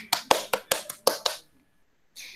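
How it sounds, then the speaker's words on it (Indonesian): A few students clapping in a classroom for a student discussion group, seven sharp, separate claps at close range, then silence and a brief voice. "Beri tepuk tangan semuanya untuk kelompok 2."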